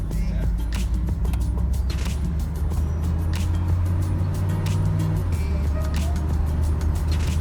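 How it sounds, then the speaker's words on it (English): Cadillac Allante, a flood-damaged car, heard from inside while driving in third gear, with a steady engine hum and road noise throughout and a low tone that shifts midway, under faint background noise. "This thing drives better than half the Allantes I've driven, and they're well maintained."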